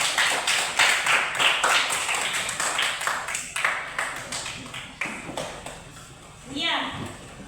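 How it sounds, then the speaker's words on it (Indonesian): Rhythmic clapping from a classroom group breaks out in quick, steady strokes that slowly fade, closing with a brief spoken voice. "Mari kita berikan tepuk tangan untuk kelompok 2."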